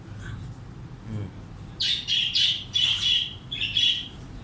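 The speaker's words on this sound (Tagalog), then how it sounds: "Kasi pag tumunog ang ibon niya, Diyos ko, nawawalan na." A bird gives a run of loud, harsh squawking calls in quick bursts, fairly close, with a couple of softer chirps before it.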